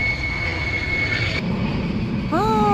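An airplane passes overhead an outdoor plant nursery, a broad steady engine roar that stays loud throughout, close and continuous, with a brief voice-like sound near the end.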